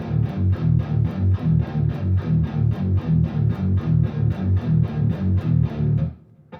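Distorted electric guitar in drop D chugs a simple, steady metal riff with a driving palm-muted rhythm, loud and alone for about six seconds before cutting off.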